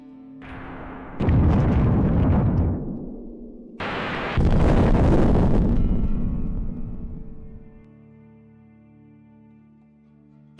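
Two heavy blasts from a HIMARS missile striking a Russian convoy, each a loud, deep roar that swells and trails off into a long rumbling decay, the second bigger and longer than the first.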